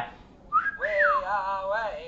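A person whistles a short rising and wavering tune to make a phone-finder app on an Android phone ring, clear and close with no talk.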